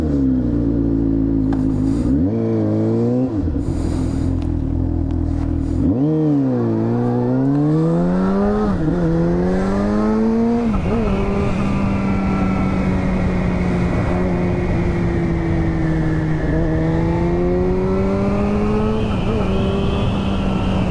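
A motorcycle rides down a valley road in Switzerland, its engine note loud and close, with the pitch rising and falling through several gear changes before it settles into a steady cruising drone.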